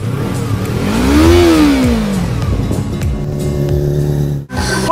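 An engine revs hard, its pitch climbing and falling in a sweeping rise before settling into a loud steady drone, then cutting off abruptly near the end.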